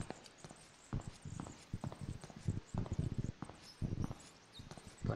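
Pony hooves clip-clopping in the horror video game DreadOut, a steady run of close, fairly loud hoof steps with an uneven rhythm.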